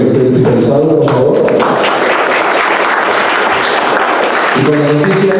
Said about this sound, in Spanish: le demos un fuerte aplauso a Rudo Rivera